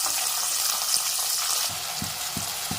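Onions and tomatoes sautéing in a pan for drumstick thokku, a steady close frying sizzle with a few soft stirring knocks near the end.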